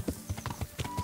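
Horse hooves clip-clopping in the video game Kingdom Come: Deliverance, a quick, even run of soft thuds close by, moderately quiet, with no talking.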